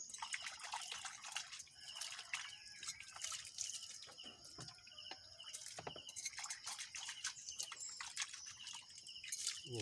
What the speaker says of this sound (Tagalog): Tubig sa ulan.